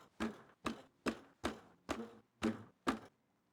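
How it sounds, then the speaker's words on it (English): Garlic is crushed in seven sharp, evenly spaced thumps, each a close, crunchy hit on a hard surface, with no talking. "I'm gonna add some cracked pepper and some garlic, which I'm just gonna crush up a little bit."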